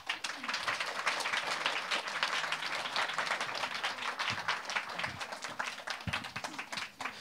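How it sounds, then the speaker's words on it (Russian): A room full of people claps steadily for several seconds, dense and even, tapering off slightly at the close. "Ваши аплодисменты."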